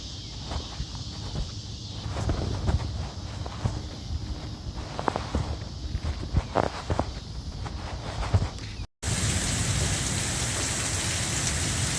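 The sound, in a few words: rain falling on a street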